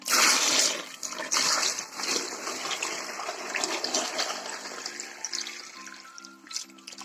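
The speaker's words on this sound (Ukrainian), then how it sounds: "Тепер виливаємо наш розсіл. Так, щоб покрило помідори." Brine poured over tomatoes in a pot for fermented tomatoes: a close, continuous splashing gush of liquid, loudest at the start and easing into a steadier trickling pour.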